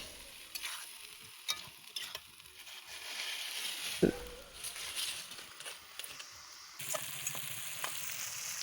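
Fried potatoes stir-fried in spice paste for an egg and lentil curry, with steady sizzling and repeated scraping of a spatula against the pan, quiet to moderate, with a sharper clack midway.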